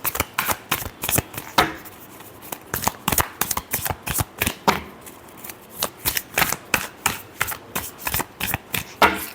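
Tarot cards are shuffled by hand in quick, crisp riffling bursts separated by short pauses, close and clear, with no speech over them.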